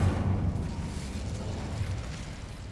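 Incendio fire spell cast in the Hogwarts Legacy video game, a dense low rumbling whoosh of flame that starts strong and gradually tapers, loud and alone.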